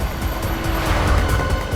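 Car engine driving steadily with broadband road and engine noise, fairly close, continuous throughout with no talk, heard during a pursuit on a street.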